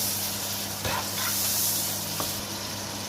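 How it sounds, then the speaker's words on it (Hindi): Green chilies frying with onions in a pan give off a steady, close sizzle and hiss that holds level throughout without pause. "अब हमारी ग्रीन चिली हल्की सी फ्राई होगी है"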